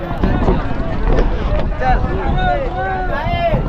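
A boat's engine drones steadily on the Ganges at Varanasi, with wind buffeting the microphone, and people talk over the noise.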